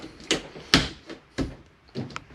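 Cabinet doors in a 27-foot Alpha Wolf 27RKL travel trailer snap shut one after another, four or five sharp clacks close by, each followed by a short rattle, with quiet between them.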